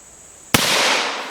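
A single loud pistol shot fired at a 2-liter bottle at an outdoor shooting table, a sharp close crack with a long ringing decay afterward.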